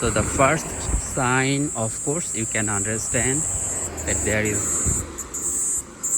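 Steady high-pitched drone of cicadas in summer in Japan runs throughout, loud and continuous, with someone talking over it in the foreground.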